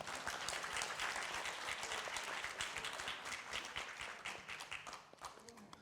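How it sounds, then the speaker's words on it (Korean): An audience at a diabetes academic event claps steadily for several seconds, a dense, even applause that tapers slightly at the end. "박수 한번 보내주시고요."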